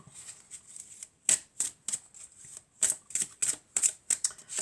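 Oracle cards are shuffled in a series of quick, crisp riffling bursts, some louder and some softer, with brief pauses between them and no talking.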